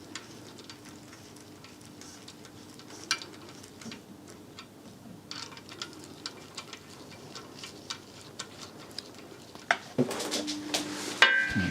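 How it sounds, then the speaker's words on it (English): A socket ratchet clicks in short, quiet runs while bolts are run down on a Mini Cooper N14 engine during a rebuild, followed by a louder clatter of metal tools near the end. "I'm going to screw these bolts down finger tight. Just get a socket on here"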